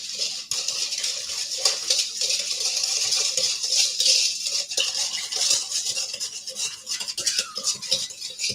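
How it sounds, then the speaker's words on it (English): A whisk rattles and taps steadily against a bowl, mixing the sauce ingredients for shoyu chicken in close, continuous strokes with no one speaking. "I'm going to whisk this together really good."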